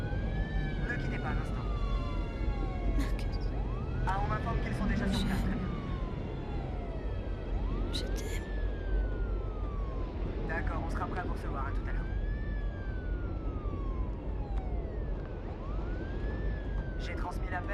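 An ambulance siren wails in repeated rising and falling sweeps, moderately loud and continuous, over a low engine rumble with scattered clatters and bursts of voices.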